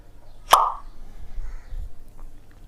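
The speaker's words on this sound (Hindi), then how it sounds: "पॉप साउंड कैसा आता है, जैसे कि बोतल खोलते हैं तो जैसा आवाज़ आता है उसको बोलते हैं पॉप साउंड।" One sharp pop like a bottle being uncorked, bright and sudden, followed by low rumbling handling noise and faint background sounds.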